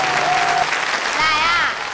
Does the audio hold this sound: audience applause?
yes